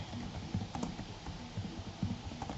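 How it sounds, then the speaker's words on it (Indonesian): Someone types on a computer keyboard, a run of quick, uneven clicks and taps close by with small pauses, soft and with no voices over it. "Misalnya saya akan mengetik"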